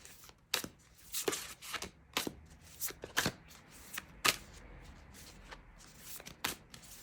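Tarot cards shuffled by hand in a series of sharp riffling bursts, about a dozen quick crisp flutters spaced unevenly, close and clear with no talking.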